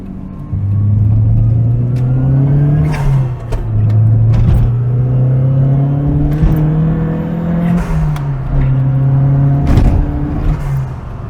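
A Nissan Skyline DR30 RS-X Turbo C "Iron Mask" accelerates on a public road, its engine rising in pitch through several gears with loud, close revving and brief dips between shifts.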